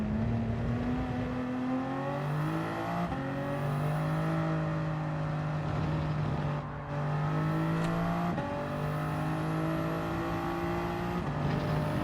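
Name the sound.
Toyota Supra engine in video game Gran Turismo 7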